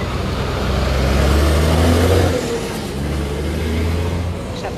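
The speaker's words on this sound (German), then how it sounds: "Ich habe den LKW überlebt." A truck rumbles past on the road close by, with a loud, low engine drone that swells, briefly eases and then carries on steadily.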